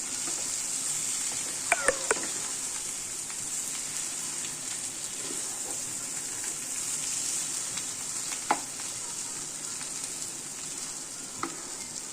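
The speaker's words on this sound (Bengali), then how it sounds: "এইভাবে এবার আবার কষবো আলুর সাথে মশলাগুলোকে" Potatoes sautéing with spices in a hot pan give a steady, even sizzle, broken by a few sharp scrapes and clinks as the mixture is stirred. No voices are heard.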